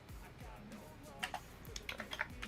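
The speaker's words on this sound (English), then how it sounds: "I'm typing slowly, but I can't talk while typing" Computer keys tap sparsely and quietly at first, then pick up into a quicker run of sharper clicks near the end, with no talking over them.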